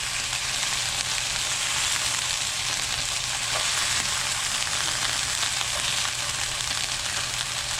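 Pieces of dense cobia fish sizzle and fry steadily in a hot pan. The crackle is close and continuous, with no talk over it.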